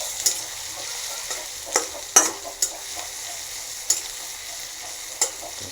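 Whole cumin fries in oil with a soft, steady sizzle, punctuated by occasional sharp scrapes and taps of a spoon stirring the pan, close and alone.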